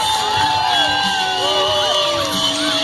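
Crowd at a county fair BMX stunt show cheering, whooping and yelling loudly and continuously, a dense roar of many voices close by with shrill shouts rising above it.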